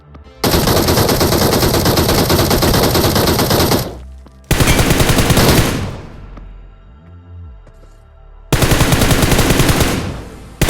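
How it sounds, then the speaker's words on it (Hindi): Three long bursts of rapid automatic gunfire in PUBG Mobile, loud and close, separated by brief pauses, with a quieter stretch of game sounds in between. "वो मेरे ऊपर गोली चलाता है"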